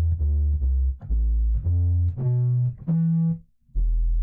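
A wrongly pitched 808 bass drum: deep booming bass notes hit in a quick sequence, each tone sliding to a different pitch, loud and sustained, with a brief pause near the end.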